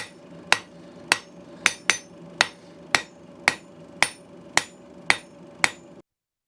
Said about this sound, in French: Il suffit de marteler pour étirer